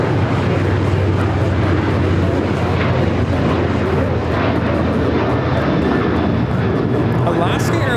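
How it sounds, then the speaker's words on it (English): Alaska Airlines Boeing 737-900ER jet in One World livery taking off for Seattle, a loud steady engine roar that fills the whole stretch, with voices talking over it. "Alaska Airlines 1147 taking off to Seattle on the 737-900ER in the One World livery."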